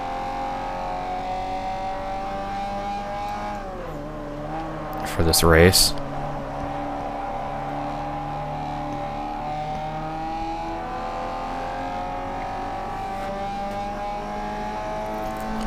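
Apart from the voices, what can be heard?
upgraded car engine racing in Forza Motorsport 4 video game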